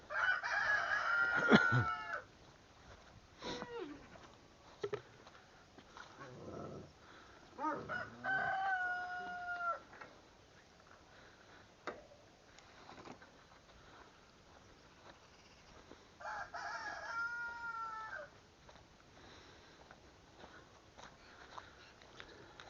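On a farm, chickens cluck and a rooster crows several times, the drawn-out calls rising and falling at moderate distance amid quieter scratching and clucking between them.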